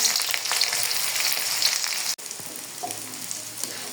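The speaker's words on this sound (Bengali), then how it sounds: "তেল গরম করে নিয়েছি দিয়ে দেব ডারচিনি এলাচ লবঙ্গ তেজপাতা দিয়ে দেব পেঁয়াজ কুচি" Cinnamon, cardamom, cloves, bay leaves and chopped onion fry in hot oil, giving a dense, steady crackling sizzle close to the pan with a momentary dip partway through.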